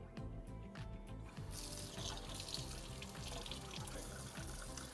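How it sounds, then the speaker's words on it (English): A filter strainer from a Toyota Envoy being rinsed under a running tap, a steady splashing water stream that grows louder and fuller after the first second or so, with no voices. "All we have to do now is rinse out the strainer and take a look through it to see if it's still clear."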